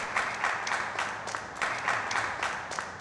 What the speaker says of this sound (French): Je vous demande un tonnerre d'applaudissements pour le groupe Bigard.